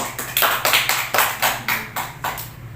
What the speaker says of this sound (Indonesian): Pinter, tepuk tangan dulu.